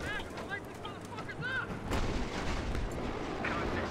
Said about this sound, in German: Schießen die so billig doppelt mit Raketen auf mich.